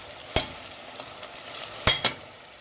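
Onions frying in a pot with red chilli powder for aloo gosht, a soft steady sizzle broken by a few sharp clicks and scrapes of a spoon stirring, close by and fairly quiet, with no talking.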